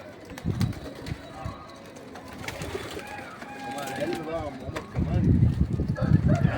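Pigeons coo in short warbling bursts close by, mixed with rustling and bumps, while someone talks over them in the loft.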